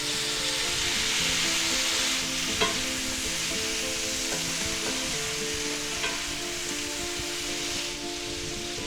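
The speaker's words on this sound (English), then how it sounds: "Now we're going to add a little bit of rice wine." Rice wine hits a hot wok of shrimp chow mein and sizzles steadily, with stirring scrapes and faint clinks over the constant frying hiss.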